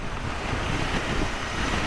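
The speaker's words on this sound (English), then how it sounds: "It is really, really windy today." Strong wind on a dirt road roars steadily throughout, a dense, continuous rush buffeting the microphone with no pauses.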